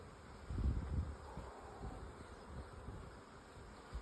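Honey bees swarm over an opened, established hive, a soft steady drone with a low rumbling swell early on, close and continuous with no voices.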